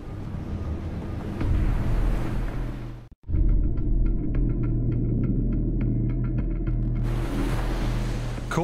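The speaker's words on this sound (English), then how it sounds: "Too far in, these powerful waves will rip it to shreds." Powerful ocean surf crashes and roars continuously near a rocky shore, with heavy, loud rumbling water and breaking waves throughout, briefly interrupted by a sharp cut.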